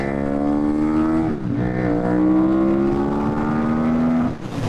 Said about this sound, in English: so that was the rev limiter there of second gear